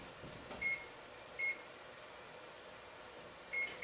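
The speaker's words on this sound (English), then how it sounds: "we're just going to set the timer for about 15 minutes" Three short, clean electronic beeps from an oven timer being set while corn soup roasts, spaced unevenly and alone over a faint steady room hiss.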